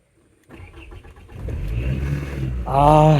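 A 2003 Toyota Camry engine cranks briefly after a moment of silence, catches and settles into a steady idle, then rises with a short rev near the end; close and loud, with no talk.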